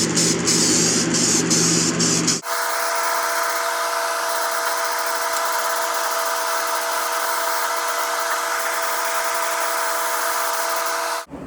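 Short bursts of flat black spray paint hiss from an aerosol can, then a continuous loud hiss of spraying holds steady for about nine seconds before cutting off.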